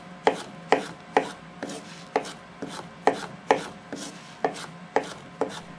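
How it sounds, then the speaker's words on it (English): A Benchmade 580 Barrage knife with a 154CM stainless steel blade cuts through test materials in a series of about a dozen sharp, close chopping strikes, evenly spaced, with no talking. "Let's do some cut testing with the Barrage."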